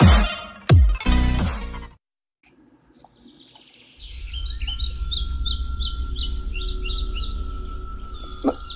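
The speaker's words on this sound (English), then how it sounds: "Bird." Bird chirping in the Minecraft video game, a few quick high tweets over a steady low hum, preceded by some louder broadband bursts and a brief silence, with no talking.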